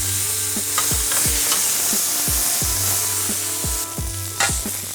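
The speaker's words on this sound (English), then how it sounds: "I'm gonna flip my pork belly over." Pork belly in a pan sizzles with a steady hiss after being flipped, while repeated low scraping or stirring strokes sound in a regular rhythm throughout, close and loud, no talking.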